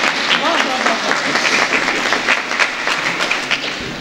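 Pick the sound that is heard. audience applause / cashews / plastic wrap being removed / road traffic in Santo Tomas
audience applause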